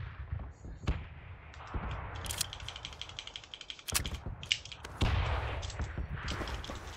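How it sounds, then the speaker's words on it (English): Gunfire in the video game PUBG: scattered sharp cracks and bursts at varying distances, some close and punchy, others softer, over a busy background of rattling and metallic clicking, without a steady rhythm. "Ooh, lots of shooting around."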